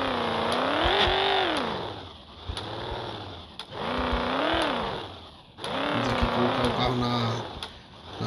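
A Volkswagen Saveiro G5 engine in the game Rebaixados Elite Brasil starts and revs hard, loud and close, in three long rising-and-falling sweeps separated by brief dips near idle.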